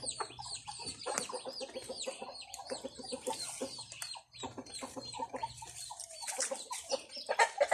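Chickens clucking steadily in a busy, overlapping chorus, eating cat food, with short repeated calls from several birds close by and a low hum underneath.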